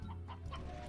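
Hens cluck softly in the Slime Rancher video game, a few short, repeated clucks over a low steady background hum.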